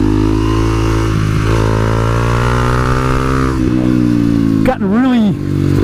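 Supermoto motorcycle ridden at Deals Gap, its engine droning loud and close with shifting revs and a sharp rise and fall near the end, wind rushing over the mic throughout.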